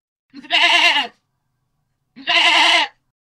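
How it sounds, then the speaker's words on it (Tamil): A goat gives two loud, close, wavering bleats about a second long each, separated by a short silence. "ஆடு எப்படி கத்தும்? ஆடு மேனு கத்தும்."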